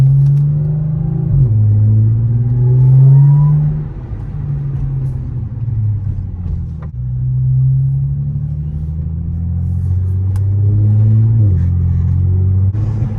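Audi S4 with a DSG gearbox and a supercharger, heard from inside while driving at normal pace, a steady low engine drone that rises and falls with the gear changes under road rumble, no talking.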